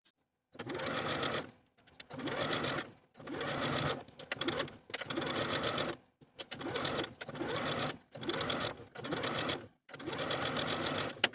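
Home sewing machine running a straight stitch along folded, serged facing edges of a 1960s-style tie collar top, in repeated bursts of about one to one and a half seconds separated by short pauses, close and steady.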